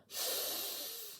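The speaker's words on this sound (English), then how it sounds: "that's a sniff." A single long, breathy sniff drawn in through the nose, close and airy, rising quickly and holding steady for about a second before tapering off.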